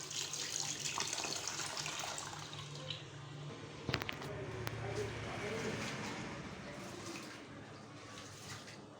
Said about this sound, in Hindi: ये चावलों को मैं अच्छी तरह से धो लेती हूँ